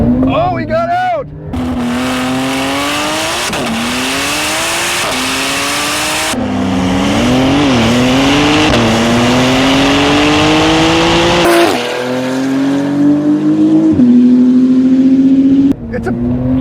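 Porsche 911 Turbo S, GT2 RS and McLaren 765LT supercars launching in a drag race, loud revving engines climbing through repeated gear shifts, close and dominant with brief talk.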